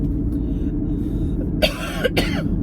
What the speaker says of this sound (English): There I got a cough again.